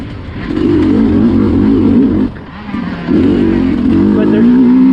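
A Sherco SC250 two-stroke cross-country dirt bike is ridden at Crow Canyon. Its engine drones loud and steady, falls away briefly in the middle, then picks back up and holds a strong, buzzy note.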